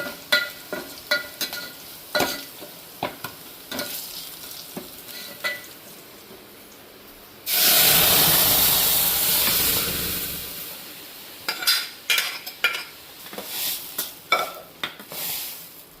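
Garlic frying in a pan for a moong dal and tender tamarind leaf dish: light stirring clicks and knocks, then a loud sizzling hiss that lasts about three seconds before the stirring taps resume.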